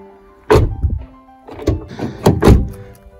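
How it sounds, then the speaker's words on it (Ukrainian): A Renault Clio 4 car door with an anti-squeak rubber strip fitted shuts with a solid, close thunk, then a few softer knocks and rattles follow as the door settles. "Ось звук з цією резинкою."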